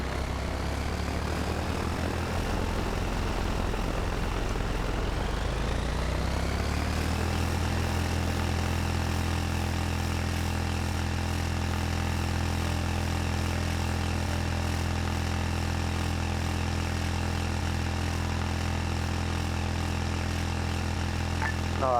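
A propeller aircraft engine in a video game throttles up for takeoff, its pitch rising steeply over a few seconds and then settling into a loud, steady drone that holds to the end, with no talking.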